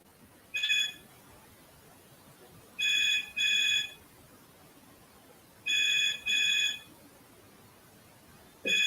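An electronic house phone rings in short paired bursts with silent gaps between, fairly close and clear, no voices.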